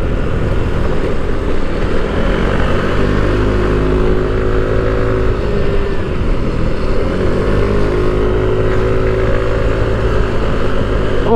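A Mio i125 scooter engine held at full throttle near its top speed of about 60 drones loud, steady and unbroken from start to finish, heard close up.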